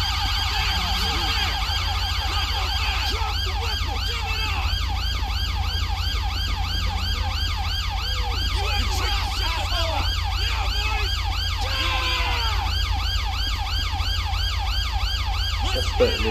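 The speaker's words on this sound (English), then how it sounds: "Turn the siren off." A police car siren in GTA V wails continuously in a rapid yelp pattern over a steady engine hum, loud and close throughout.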